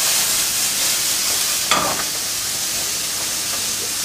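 Vegetables hit a hot pan of extra virgin olive oil during a healthy eating cooking demonstration, giving a steady close sizzle with a brief louder crackle as they go in, with no talking.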